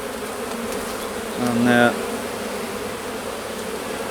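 Honey bees buzz in a steady, dense drone throughout a March hive inspection, with a single louder buzz of a bee flying near for about half a second, and a person briefly speaking.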